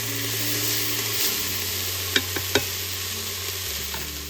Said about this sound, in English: Give it one last stir here.